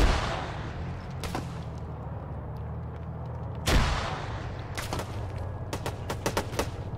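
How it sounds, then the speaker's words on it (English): A frag grenade goes off in the military shooter Arma 3, one sharp broadband blast standing out mid-clip, surrounded by scattered gunshot cracks and steady battle rumble. "Another frag."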